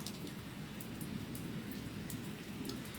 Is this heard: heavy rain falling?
yes